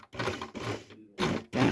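A Janome 11706 sewing machine stitching with a drop-stitch fault, running in short whirring bursts separated by brief pauses, close up with no talking.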